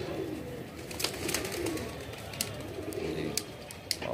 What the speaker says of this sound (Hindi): ये चेन्नई के कबूतर हैं